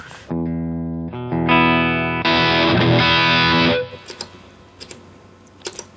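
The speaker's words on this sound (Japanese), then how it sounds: "これフルで歪ませるこのくらいっていうのはこれむちゃめちゃ優秀ですね。" Electric guitar through an LPD Pedals distortion pedal at full gain, sustained heavily distorted chords stepping up in a few loud blocks, then cutting off into quiet pick and string noises.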